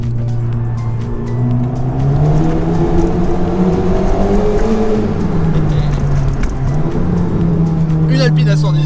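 A modified Alpine A110 sports car engine revs and accelerates loudly up close, pitch rising and falling through gear changes with a voice talking over it.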